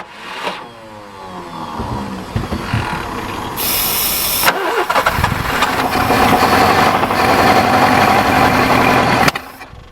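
A Subaru Brumby ute grinds through repeated starter cranking, then its engine catches and runs roughly with a loud, uneven revving roar before cutting out.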